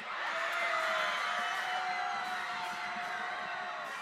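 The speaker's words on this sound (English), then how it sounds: "Johnny Mack getting the crowd fired up" A crowd at a high school football game cheers and whoops in a steady, distant wash of noise, without any talk over it.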